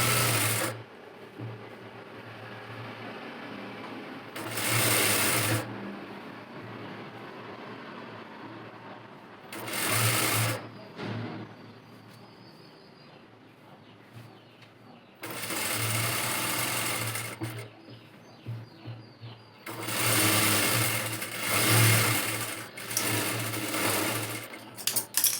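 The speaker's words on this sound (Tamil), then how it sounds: "ரெண்டையும் ஒன்றா வச்சு அப்படியே ஃபுல்லாக தையல் போட்டுருங்க." An electric sewing machine stitches fabric for a baby's petticoat, running close and loud in several bursts of whirring stitching separated by quiet pauses.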